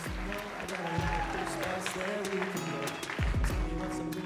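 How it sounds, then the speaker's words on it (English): Audience at a fashion show applauding the co-host, a steady wash of clapping and cheering with voices talking and calling out over it. "one final round of applause for my wonderful co-host"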